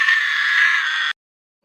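A sustained, shrill screech offered as a birthday greeting holds steady and loud for about a second, then cuts off abruptly into silence.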